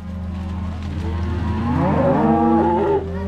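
Cattle moo loudly and close by, a long drawn-out lowing call that rises and wavers over a low background hum.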